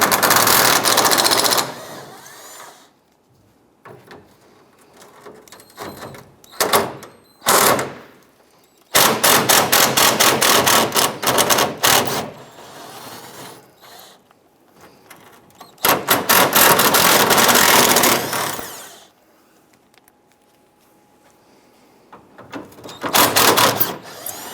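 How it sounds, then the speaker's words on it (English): Bursts of a power ratchet or impact tool removing 8mm bolts from the grille support of a 2002-2008 Dodge RAM, rapid rattling runs of a second or two separated by quiet gaps, fairly close. "Let's go across the bottom of the support here and remove these 8mm bolts."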